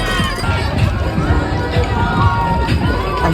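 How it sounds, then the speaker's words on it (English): Crowd noise near the finish line of the Bristol Half Marathon, a steady, loud wash of cheering and shouting voices that runs unbroken throughout, with footsteps and scattered voices mixed in. "The crowds got louder"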